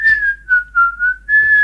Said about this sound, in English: I like the whistling in this part.